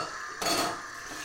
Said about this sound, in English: I just downloaded some kitchen type sound effects